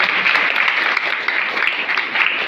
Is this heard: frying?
no